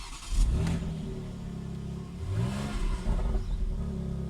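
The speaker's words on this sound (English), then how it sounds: "You can hear the crackle and pop." A BMW X3 M Competition engine revs up and falls back twice, its exhaust crackling and popping, heard close and fairly loud with no talk.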